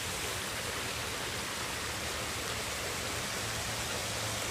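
An outdoor water fountain pours with a constant, even rushing hiss, a steady splash that fills the whole moment without change or speech.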